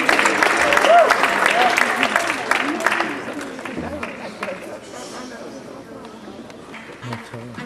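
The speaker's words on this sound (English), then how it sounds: "Let's give her a round of applause." Applause from an audience welcoming an opera singer starts loud and gradually thins and fades, with a few voices and crowd murmur mixed in as the clapping dies away.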